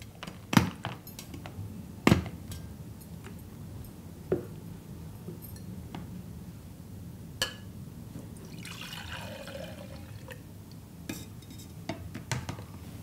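Milk poured into a shaker, a soft watery trickle with a few sharp glassy clinks and knocks scattered through, close and quiet, with no talk.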